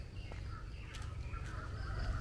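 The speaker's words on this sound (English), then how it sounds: "We can hear birds chirping." Birds chirping along a wooded walking trail to Pantai Esen beach, a few faint scattered calls rising over a low steady background rumble.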